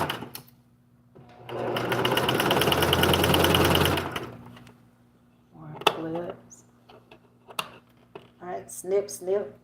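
A sewing machine stitching a ruffle runs in one fast, even burst of about three seconds, close and clear, followed by quieter handling noises and a person talking.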